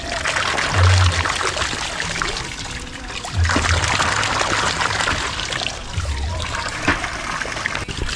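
Water gushing and splashing from a newly drilled hand water pump in the Philippines, a steady rushing pour with periodic surges in strength, up close and heard alone.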